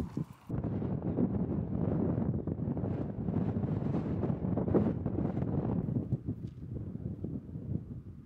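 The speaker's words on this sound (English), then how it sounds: "Tent up, it's very windy." Strong, steady wind buffets a tent and microphone at a wild camp on South Pennines moorland in the UK, a continuous low roaring rush that gusts and eases, with no talking.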